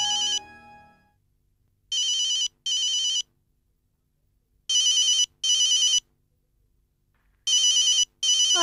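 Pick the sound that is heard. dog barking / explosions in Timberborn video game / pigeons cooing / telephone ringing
telephone ringing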